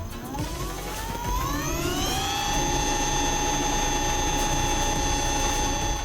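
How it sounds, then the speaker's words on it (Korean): Electric motor of an EasyWheel Taurus Mini e-scooter whining steadily, its pitch rising over the first two seconds, then holding a sustained high tone with harmonics over low rumble. "저는 이 소음까지도 매력적으로 느꼈던 모터예요"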